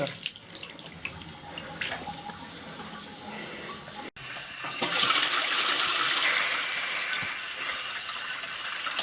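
A household tap runs with dirty, discoloured water after a water main failure, a steady rushing gush that swells louder midway and continues alone without talk.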